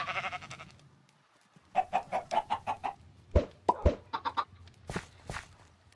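A chicken in Minecraft clucks in quick repeated bursts, a steady run of short clucks followed by scattered thuds and footstep-like sounds, fairly close and with no one talking.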